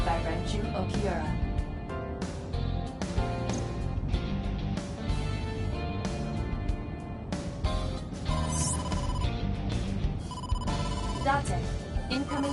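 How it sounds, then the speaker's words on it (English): A phone rings with an incoming call, its electronic ringtone repeating steadily beneath continuous speech and music. "incoming call from the boss"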